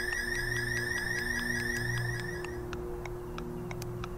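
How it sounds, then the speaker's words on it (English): A rapidly warbling electronic power plant alarm from the video game Reactor Tech sounds loudly over a low hum, then cuts off, leaving a few short clicks. "I have an alarm going off."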